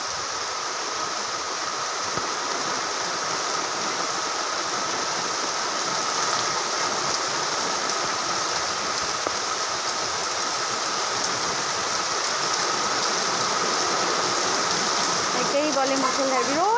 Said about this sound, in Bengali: একেই বলে মুষলধারে বৃষ্টি। ওরে প্রচুর জোরে বৃষ্টি।